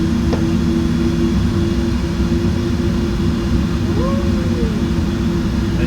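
Airliner jet engines in a flight simulator spool up to roughly 30 to 40 percent thrust for taxi, a steady loud droning whine with a constant low rumble that holds through the whole stretch, with no talk over it.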